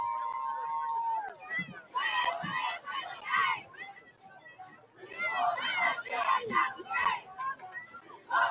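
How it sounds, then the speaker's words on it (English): Crowd cheering and chanting with cheerleaders at a high school varsity football game during the second quarter, loud rhythmic bursts of many voices rising and falling over several seconds, with announcer-style voice tones mixed in. "now cheering with the varsity cheerleaders for the second quarter"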